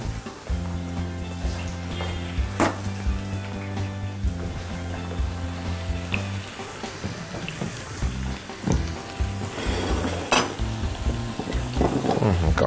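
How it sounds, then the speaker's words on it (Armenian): Potatoes fry in small batches in a pan, giving a steady, loud sizzle with occasional stirring and utensil clinks, and sustained tonal sounds running underneath throughout. "Կարտոֆիլը թող տապակվի։"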